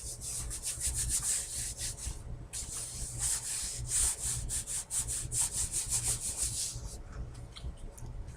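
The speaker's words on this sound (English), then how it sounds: "I just gotta do a little bit of trimming." A book cover being trimmed by hand, heard as steady rhythmic rasping and scraping strokes close up, like sawing or sanding, continuing for several seconds with a brief pause and no voices.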